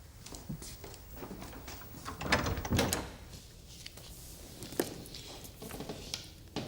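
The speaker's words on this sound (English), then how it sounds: "Windridge, close the door." A door closes quietly in a wartime naval office, with a soft thud and faint shuffling footsteps in an otherwise hushed room.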